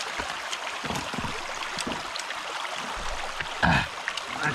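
Outdoor creek current flows with a soft, continuous rushing and trickle, broken by a brief louder splash near the end; no one speaks.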